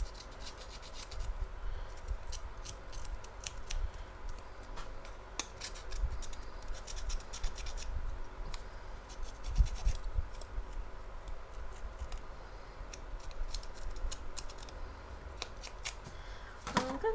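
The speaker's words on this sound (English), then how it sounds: "So I'm going to distress this sticker" Paper sticker edges being distressed by hand, giving quiet, irregular scratchy rubbing and scraping strokes that continue steadily at close range, with no talking.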